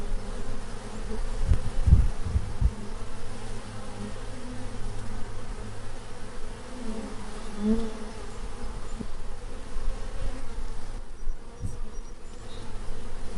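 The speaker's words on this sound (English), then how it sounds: "Those bees are really like silent architects of our food supply." Bees buzz in a steady, soft drone, with a few closer passes standing out briefly.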